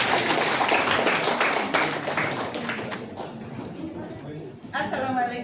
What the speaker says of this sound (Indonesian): Kita beri aplaus pada Ibu Kepala Dinas